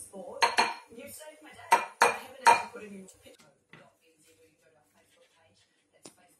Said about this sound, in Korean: 작은 볼에 삶은 계란을 넣어 잘게 부셔줍니다.